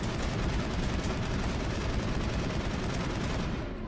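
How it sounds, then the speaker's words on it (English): Rapid, sustained weapon fire in the video game Mass Effect, a dense continuous barrage of loud overlapping shots with rumbling impacts that holds at full intensity for nearly four seconds before tapering slightly at the end. "So I can keep on going firing as long as I want until my weapon overheats."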